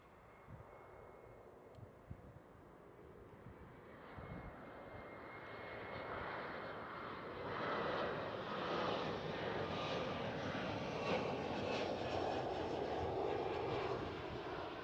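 A passenger airliner lands at Amsterdam Schiphol airport, its engine roar building steadily from a moderate rumble to a loud, sustained broadband roar as it nears and touches down on the runway.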